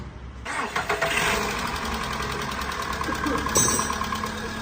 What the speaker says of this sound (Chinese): 这发动机的声音舒服吧？